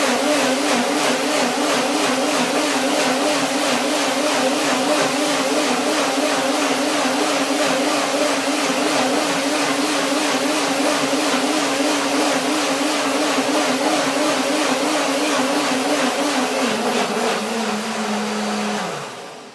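A blender whirs steadily and loudly for nearly twenty seconds blending cashews and oranges, its motor pitch dipping slightly near the end before winding down.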